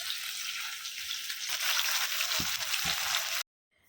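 Fish frying slowly in a pan of oil, a close, steady hissing sizzle that grows fuller partway through with a couple of soft knocks, cutting off abruptly near the end.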